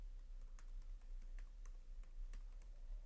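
Computer keyboard typing while a folder name is entered in graphic design software, with several light, irregular key clicks spread over a few seconds at low level.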